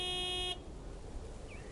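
A truck horn honks once, a short, steady blast of about half a second, followed by quiet background noise.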